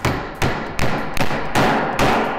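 Six evenly spaced hammer blows drive a nail into wood with no pre-drilled hole while an easel is built, each strike a loud, close, sharp knock with a short ringing decay.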